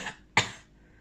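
One short, sharp cough, fairly quiet and close, followed by a fading breathy tail.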